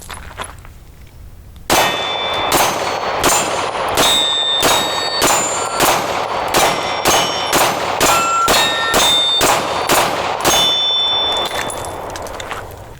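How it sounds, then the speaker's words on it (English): Rounds pressed one by one into a Shield Arms 15-round flush-fit magazine for a Glock 48, giving a steady series of about fourteen sharp metallic clicks at roughly one per second, close and loud, with no talking. "All right, got the mag loaded up."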